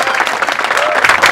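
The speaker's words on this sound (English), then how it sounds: "I'd like you to join me in a round of applause for our choir" Loud, close applause from a graduation audience for the band, a brief burst of dense clapping that holds steady throughout.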